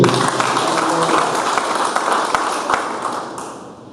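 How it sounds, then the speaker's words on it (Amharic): A church congregation breaks into sustained, dense applause that rolls on as one wash of clapping before slowly fading away. "አጨብጭቡ ለዚህ።"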